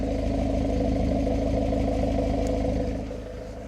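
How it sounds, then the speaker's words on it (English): A Fiat Brava's engine idles with a steady, close exhaust rumble that holds even for most of the time, then drops slightly in level near the end. "You probably hear the exhaust as well."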